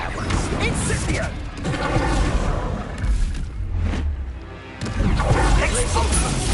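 Blasting Confringo spell explosions in Hogwarts Legacy, heavy crashing bursts amid a dense magical duel, with booming impacts and voices speaking over the fight.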